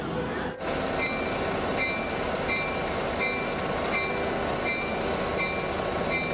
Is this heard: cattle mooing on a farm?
no